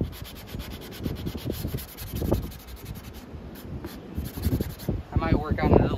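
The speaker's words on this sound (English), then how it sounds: "There was this marking on the wood, so I'm just going to try to sand that off and make it as dull as possible." Sandpaper rubbed back and forth over a wooden surface to take off a marking, steady close scratchy strokes with a few louder passes and a brief lighter rubbing patch toward the end.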